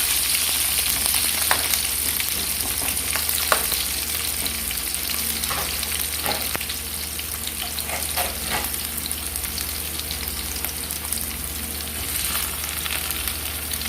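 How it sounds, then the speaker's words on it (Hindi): Green chillies sizzle steadily in a hot pan during cooking of a lady finger (bhindi) dish, a continuous close, even frying hiss with occasional stirring scrapes and no talk. "हरी मिर्च जब हम डालेंगे तो इसको थोड़ी देर के लिए भूनेंगे।"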